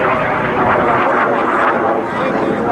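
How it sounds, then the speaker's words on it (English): A Russian L-29 Delfin jet at an airshow passes with a continuous, loud whistling roar, sustained throughout as it climbs through a barrel roll. "The whistling sound sounds almost like a siren as he goes up and over the top in a barrel roll."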